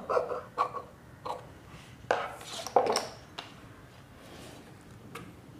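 Scissors cut away waste cloth from a lining blouse in a series of quiet, sharp snips spaced irregularly, with faint handling noise between them and no speech.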